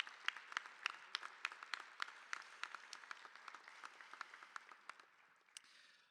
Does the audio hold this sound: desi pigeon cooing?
no